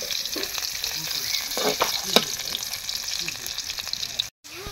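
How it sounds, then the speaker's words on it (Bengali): Onions hit hot oil and fry with a steady sizzle and crackle, plus a few stirring scrapes, moderately close and fairly quiet, with a brief cut near the end. "তেলটা গরম হয়ে গেছে, এখন পেঁয়াজ দিব।"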